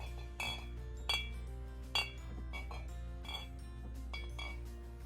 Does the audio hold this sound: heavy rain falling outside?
no